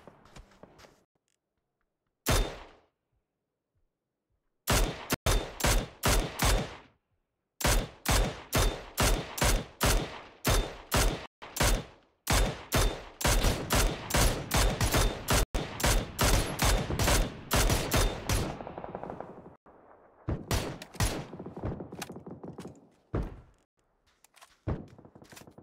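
Video game gunfire in rapid bursts of sharp, loud shots, some single and some in fast automatic strings, separated by short silences and fading into quieter scattered shots toward the end.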